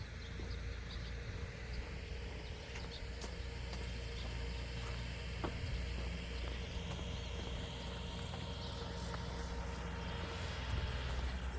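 Two tractors rotary tilling an onion seedbed far off, a faint continuous engine drone with occasional light clicks over quiet outdoor ambience.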